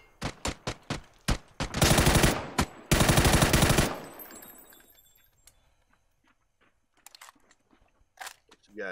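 Bursts of automatic gunfire in the battle-royale game PUBG: rapid volleys of loud shots with sustained strafing, then scattered distant single shots and quieter clicks.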